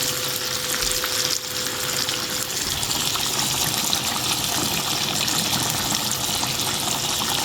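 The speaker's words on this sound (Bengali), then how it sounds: "ইলিশ মাছ ভাজি করছি এখন" Hilsa fish frying in hot oil, a loud continuous dense sizzle and crackle held close and steady for the whole stretch, with no talking.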